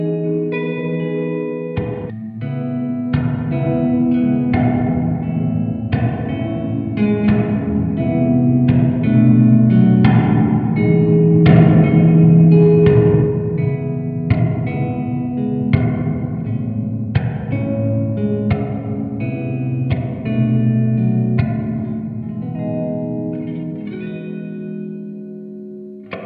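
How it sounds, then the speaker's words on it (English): A mono guitar line processed through a Poly Effects Beebo convolution reverb set to a bright, beefy EMT plate variation, plucked notes and chords blooming into a long shimmering tail that sustains and overlaps steadily for nearly half a minute. "This is another variation on the EMT plate. Again, there's kind of bright and present ones. It's a beefy plate, hollow plate."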